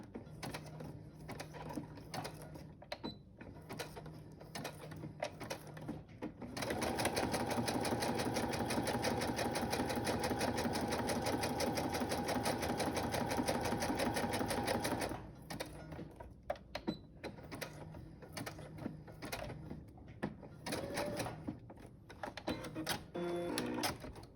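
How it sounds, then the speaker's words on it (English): A sewing machine stitches long rows of patchwork from fabric scraps, with a steady rapid mechanical whir that runs unbroken for several seconds between shorter stop-start bursts and light handling noises. "So this is going to be quite a few rows of stitches."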